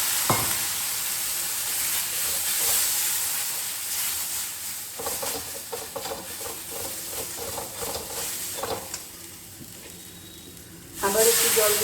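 Masoor dal and potol (pointed gourd) sizzle and hiss steadily in a pan after a little water goes in, with faint stirring scrapes and a louder burst of sizzle near the end.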